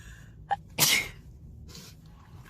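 A single sharp human sneeze, preceded by a short intake of breath and followed by quieter rustling, fairly close and clear against a low background.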